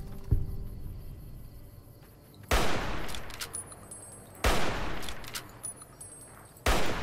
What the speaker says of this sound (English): It's amazing what a hunting rifle with the stats to hold it do.